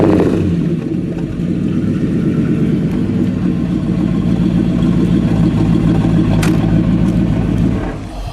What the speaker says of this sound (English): Give me a little rev, please.